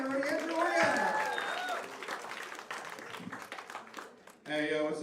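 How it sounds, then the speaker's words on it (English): A comedy club audience in Times Square applauds a comedian, steady clapping and crowd noise filling the room while someone speaks over it, with louder voices rising near the end. "Clap it up for Andrew Oriana, everybody"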